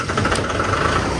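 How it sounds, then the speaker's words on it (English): A tractor engine idles in a steady, dense, unbroken rumble, close and loud, with no starting crank audible in this short stretch. "I'm hoping the tractor will start right up"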